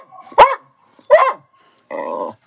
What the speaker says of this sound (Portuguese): Que querida, a minha cadela mais velha, adora a Júlia